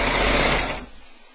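A coverstitch sewing machine stitching elastic at a garment waist runs in a loud, close whirring burst that stops partway through and fades to quiet.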